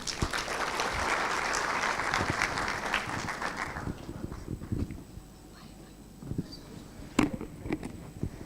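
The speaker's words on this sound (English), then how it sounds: "With a clap of hands," An audience at a national summit on substance abuse applauds warmly for about four seconds, then the clapping thins to scattered claps and a few sharp knocks amid light room noise.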